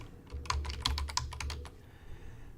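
Rapid typing on a computer keyboard, a quick run of crisp, close key clicks that trails off into quiet room noise, with no talking.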